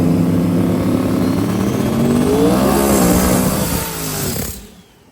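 Turbocharged hot rods, a Dodge Daytona in the left lane, launch in an outlaw small tire drag race at Muncie. Loud roaring engines with rising pitch scream down the strip for several seconds, then fade away abruptly.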